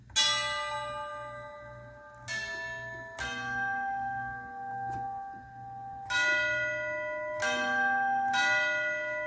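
Steeple bell music played from a MIDI player rings out as a slow sequence of sustained, ringing bell tones, each strike decaying into the next with a low steady hum beneath.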